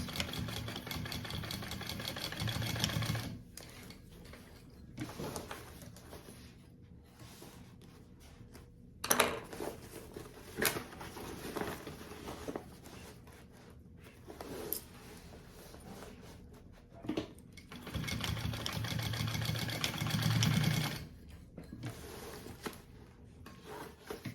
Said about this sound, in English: I'm gonna do another row of stitching across these connectors.